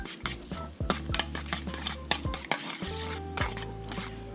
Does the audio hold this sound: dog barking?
no